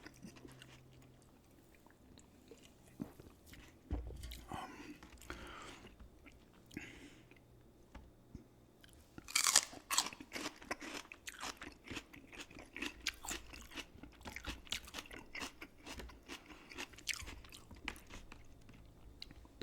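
Crunching bites on baby carrots and celery, close and crisp, with irregular sharp crunches and chewing spread across a quiet room, one louder burst of bites partway through.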